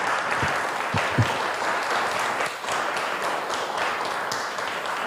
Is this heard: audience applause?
yes